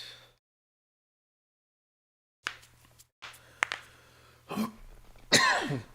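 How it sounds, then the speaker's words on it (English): A few harsh coughs and throat clearing, close and loud, separated by brief silences after a quiet opening. "I can't stop coughing."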